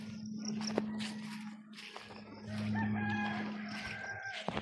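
A rooster crows at a distance in a backyard amid hens clucking and light farmyard noise, fairly faint with a steady background hum.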